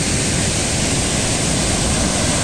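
The Salto do Rio Pardinho waterfall on the German Route in Rio Grande do Sul pours into a pool below, a loud, constant roar of rushing water that is close and even, with no voices.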